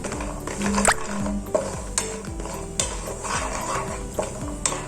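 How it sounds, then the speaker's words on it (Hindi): A utensil stirs and scrapes almonds roasting in a dry pan with repeated metallic knocks and a faint sizzle, close and fairly loud. "सबसे पहले मैंने यहाँ पे बादाम ले लिए हैं, इसको थोड़ा लाल होने तक पकाऊंगी मैं"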